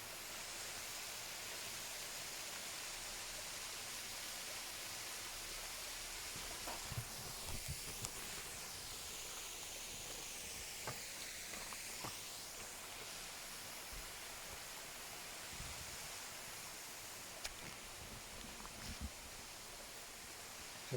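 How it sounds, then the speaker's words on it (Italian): Rushing water from a waterfall fills the scene with a constant, broad, hissing roar at low level, steady throughout with faint scattered knocks and rustles nearby. "Sentite il rumore dell'acqua."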